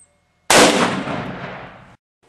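A 7.62x54 Mosin Nagant rifle round fired from 50 yards strikes a hard body armor plate, making one sharp, loud crack that rolls off into a decaying echo for over a second.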